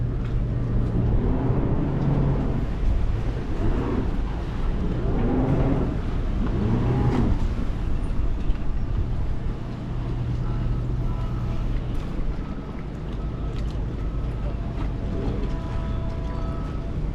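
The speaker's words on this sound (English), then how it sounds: "Boat's still being held off on the engines and the thrusters at the moment." Continuous low mechanical drone of a Princess F70 motor yacht's engines and thrusters holding position, running steadily, with a few voices speaking faintly over the hum.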